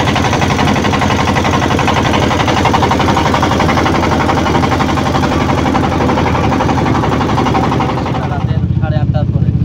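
On the Teesta river, a motor boat engine chugs steadily and loudly up close with a rough, rattling pulse, then eases near the end as a voice speaks.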